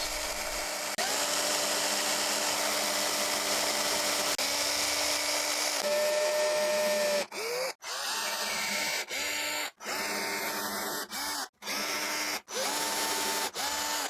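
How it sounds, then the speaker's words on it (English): A power drill boring hook-hanger holes in a Lexan fishing lure whines steadily with changing pitch, then runs in a series of short bursts with brief stops between them, close by. "Time to drill in the holes for the hook hangers."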